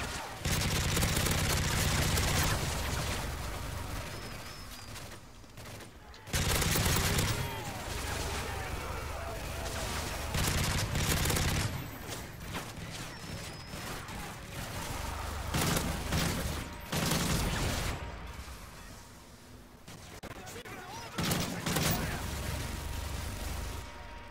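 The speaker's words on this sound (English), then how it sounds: "Sentry gun's still shooting teammates." Repeated automatic bursts from a sentry gun in Modern Warfare 3 Survival mode on the Underground map, sustained loud volleys broken by short pauses, mixed with other gunfire and explosions.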